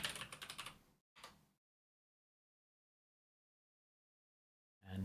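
Quick typing on a computer keyboard: a brisk run of close key clicks, a short second burst, then near silence until another tap at the very end.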